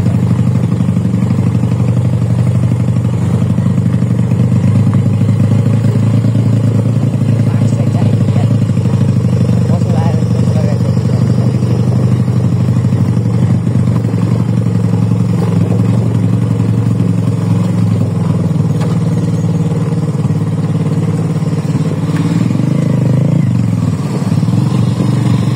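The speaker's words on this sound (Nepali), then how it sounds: "दाजुले बाइक चाहिँ खतरा बनाएको छन् है मोडिफाई सोडिफाई हानेर है" A modified motorcycle engine runs while being ridden, a loud, close, steady low drone that holds without pause for the whole stretch.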